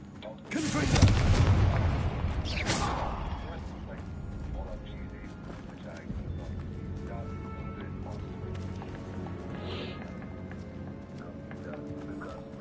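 A Confringo spell explodes in a Hogwarts video game: a loud burst and boom near the start, fading into a rumbling tail and a quieter ambient game soundscape, with a voice speaking.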